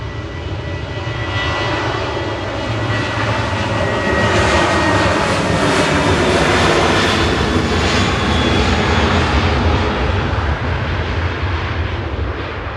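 Ryanair airliner taking off from Manchester Airport for Verona, a loud roaring jet engine rumble that builds to a peak midway and holds, close and alone with no talk.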